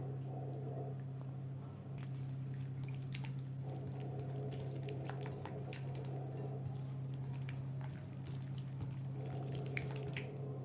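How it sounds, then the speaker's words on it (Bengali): Chicken is mixed by hand with spices, salt and mustard oil, giving soft wet squelches and small drips over a steady low hum, close and fairly quiet, with no talking. "ভালো করে এগুলিকে মশলাগুলোকে ভালো করে মিশিয়ে নেব"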